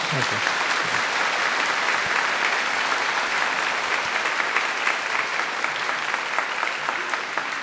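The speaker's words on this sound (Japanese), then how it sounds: "では拍手して" A church congregation at a revival gathering breaks into applause, a full, loud and steady wash of many hands clapping throughout, with no pause.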